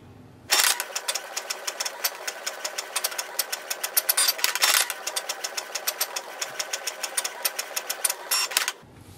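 A Canon Pixma G3060 inkjet printer prints a page, its mechanism chattering in a fast, regular series of sharp clicks and knocks for about eight seconds, close and alone, stopping abruptly at the end.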